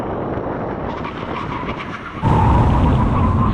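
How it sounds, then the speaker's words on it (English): A supercar from a Lamborghini SVJ, McLaren 720S and Porsche 911 Turbo S drag race makes a full emergency stop, road and tire roar rumbling steadily before a sudden, louder surge of grinding noise as the braking bites; no talk. "When we reach the line, full emergency stop."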